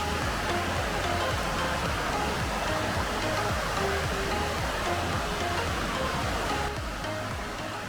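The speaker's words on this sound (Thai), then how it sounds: "เป็นลำธารแบบนี้นะ" A forest stream with a small waterfall rushes steadily in front of a tent at a campsite in Lan Sang National Park, Tak, a dense, continuous wash of flowing water heard close and alone without a break.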